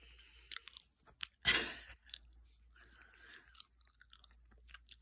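A dog chews a hard pumpkin and spirulina treat, giving close, sharp crunching bites and softer gnawing clicks in a quiet room.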